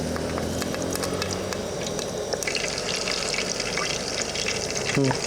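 Slit green chillies sizzle and spatter in hot oil in a pan, a steady loud crackle with clinks of a utensil near the end.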